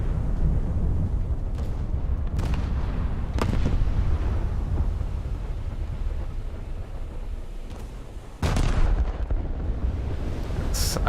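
Naval ship guns firing at turrets in a sea battle game: a steady low rumble of engine and battle noise broken by several distant booming shots, then a louder close blast near the end.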